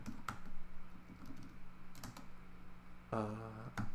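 Code being typed on a computer keyboard during a programming lecture, sparse key clicks in short bursts, near and moderately loud, with a brief tonal sound near the end.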